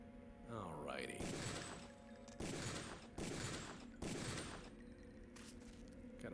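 In the video game Deus Ex, several loud bursts of gunfire ring out in quick succession, each a dense, rattling volley separated by brief pauses, with a voice briefly heard at the start.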